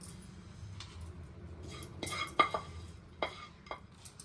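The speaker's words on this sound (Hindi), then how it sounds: "आता आपण तूप लावलेल्या डिश मध्ये हे सगळं ओतून घेऊया सेट करण्यासाठी" Oats chikki mixture scraped and poured into a ghee-greased dish, with soft scraping and a few light clinks of a spoon against the dish, close and fairly quiet.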